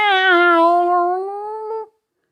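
A storyteller's voice imitates an old cat's sad yowl: a single drawn-out, wavering meow lasting nearly two seconds, close and clear, tapering off at the end.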